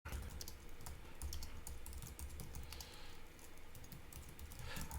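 Code being typed on a computer keyboard, a quiet, rapid run of close key clicks that continues for about five seconds with no talking.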